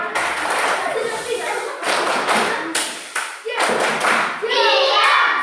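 Classroom children perform the 'tepuk diam' clapping routine, bursts of group hand claps in a rhythmic pattern, loud and close, with children's voices chanting along.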